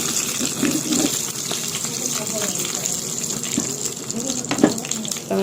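Mustard seeds and dal crackle in hot oil as a tempering for a pirandai chutney, a steady loud hiss with scattered sharp pops and spits throughout.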